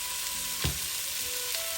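Onions sauté in a pan with salt, a steady broadband sizzle running throughout, broken once by a brief stir or scrape near the middle; no one talks.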